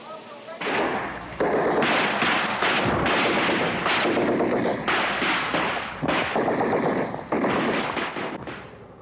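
Dense bursts of gunfire and heavy shots from Vietnam War combat during the 1968 Tet Offensive, near the U.S. Embassy compound in Saigon, roar almost continuously with overlapping rapid reports across a harsh wartime soundscape.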